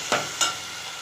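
Dal tempering with asafoetida sautéing in a pan for moong dal fry: a steady soft sizzle with two quick scraping stir strokes near the start, close and without talk.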